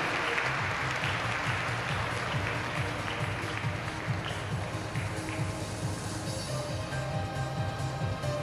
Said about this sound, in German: ich denke, wir haben einmal einen Applaus